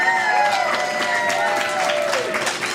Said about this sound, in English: So let's get a nice round of applause for Madison Rankin and Kyle Graham